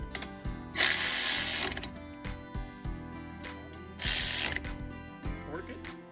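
A ratchet tightens 14mm bolts on the front brakes of a 2012 Nissan Sentra, with bursts of rapid clicking pawl strokes between quieter metallic handling sounds, close and clear.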